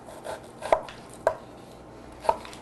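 A knife dicing half an onion into tiny pieces on a cutting board: three distinct, well-spaced chopping taps close by, quiet and alone.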